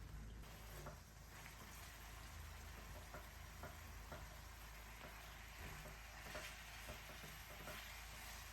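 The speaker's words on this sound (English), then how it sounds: "Now let's toss in the meat and fry on medium heat." About 500 grams of beef fry over medium heat in a hot skillet, giving a continuous close hiss with steady crackling and occasional knocks of stirring, quiet overall and without speech.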